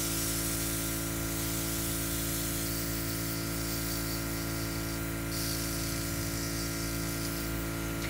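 An airbrush makeup system sprays foundation over facial blemishes in a continuous, close, steady hiss with a faint motor hum beneath, holding level throughout without pause.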